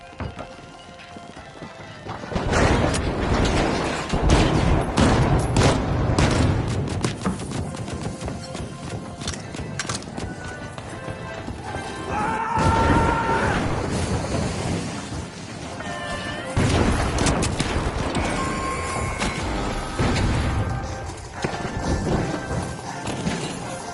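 Pyro grenade and mine explosions in The Finals video game, a sustained run of loud, crackling blasts and crashing debris with burning roar, dense and continuous throughout, no talk.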